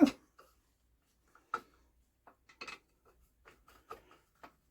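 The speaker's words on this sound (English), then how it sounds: "Sounds like this engine's actually catching on the tin work." Old 50cc BSA engine turned over by hand, its parts catching on the tin work, producing sparse metallic clinks and scrapes at irregular intervals, close but faint, with silence between them.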